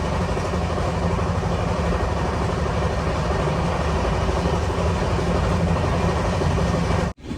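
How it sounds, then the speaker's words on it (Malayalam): Millennium Express rolling into Warangal station, a loud, steady rumble of wheels and carriages heard from on board, continuous and unbroken before cutting off abruptly at the end. "തെലുങ്കാനയിലെ ഈ ട്രെയിനിൻ്റെ ഒരേ ഒരു സ്റ്റോപ്പായ വറങ്കലിലേക്ക് ഇതാ ട്രെയിൻ എത്തിക്കൊണ്ടിരിക്കുകയാണ്"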